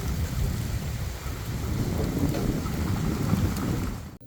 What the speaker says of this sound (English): It got windy and started raining. We could see lightning and hear loud thunder.